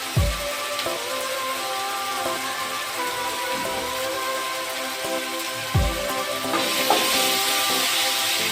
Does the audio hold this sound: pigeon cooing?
no